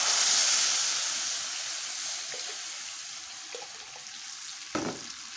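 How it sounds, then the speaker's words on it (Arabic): Water hits browned onions frying in a pan, giving a broad hissing sizzle that slowly settles, with a couple of faint clinks from utensils near the end. "حط عليه ميه."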